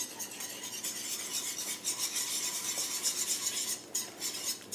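Steady scraping and swishing as flour is stirred into beef braising liquid for short ribs, a continuous close utensil rub against the pot with faint clinks, no talking.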